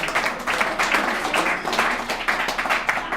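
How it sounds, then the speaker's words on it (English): A room at a recovery alumni meeting claps for the evening's main speaker, a loose, fairly loud round of individual hand claps with an uneven rhythm, close and alone. "Let's give him a round of applause."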